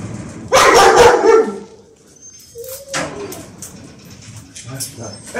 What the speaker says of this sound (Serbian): kako rješavamo ovakve situacije kada ima mnogo lajave pse